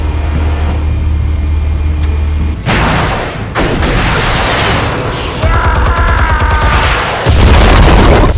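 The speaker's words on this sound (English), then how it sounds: "Explosives armed. Fire when ready." Explosives go off in the Batman: The Telltale Series game, a low hum cut by a heavy boom, then rumbling blasts, crackling debris and further thunderous bursts, loud and close.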